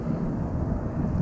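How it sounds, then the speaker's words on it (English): Strong outdoor wind gusting straight into the microphone on a cold, windy day, a loud, continuous buffeting rumble with no break and no voices. "Boy, a big old gust in my face right now."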